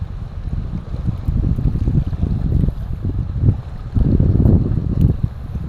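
Strong gusty wind buffets the microphone over a steady rush of waves breaking at an island shore, loud and continuous with swelling surges.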